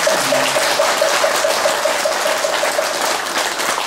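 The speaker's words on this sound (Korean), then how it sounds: "우리 김영애 단장님께 감사의 박수를 한번 전해주시겠습니다" An audience at a Buddhist broadcasting ceremony gives a round of thank-you applause, a loud continuous wash of clapping with a faint tonal beeping pattern running through it.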